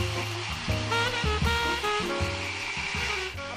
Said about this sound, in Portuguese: para acelerar a nossa secagem, usamos o secador.